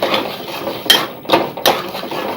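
Edible gum (gond) roasts in ghee in a deep kadhai while a metal spoon scrapes and clanks against the sides in several loud, close strokes.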